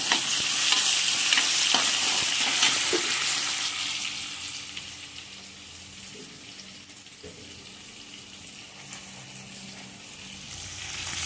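Onion frying in a pan is stirred over a strong continuous sizzle that is loud at first and settles lower, with occasional scrapes of the spoon and no voices.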